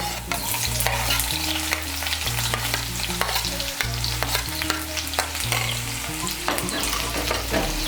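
Chopped onion frying in oil with crushed garlic for kakrol ghonto, a loud continuous sizzle with frequent scraping and clicking of a spatula stirring through the pan.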